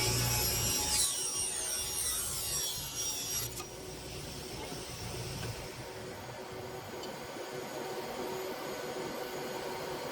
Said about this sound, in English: I put on a thin kerf saw blade so that I don't use any more material than necessary